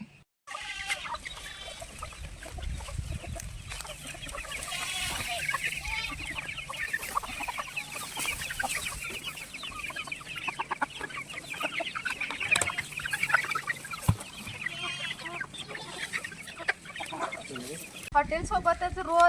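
Flock of farm chickens clucking busily as feed arrives, with turkey-like gobbles mixed in; dense, continuous fowl chatter close by throughout, with occasional voices in the background.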